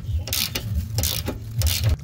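A wrench works a castle nut off an outer tie rod on a 2005 Acura RSX Type S, giving rhythmic metallic ratcheting clicks in quick repeated bursts at close range.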